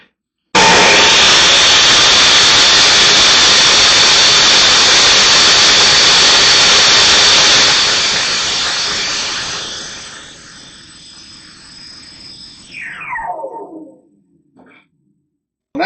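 Power saw trims the side of a wooden panel for a Shaker-style cabinet door, a loud steady whining roar that holds for several seconds, then fades and winds down with a falling pitch.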